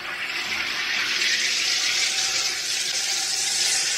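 A steady, loud hiss of gas rushing into tap water as a soda maker carbonates it, an even bubbling rush that holds for several seconds without pause.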